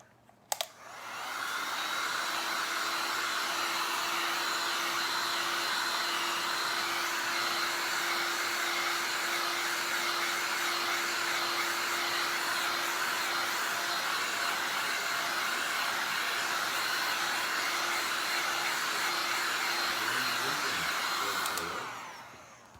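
A hair dryer blows on a freshly painted stencil sign, starting up, then running as a loud, steady whirring hum for about twenty seconds before switching off.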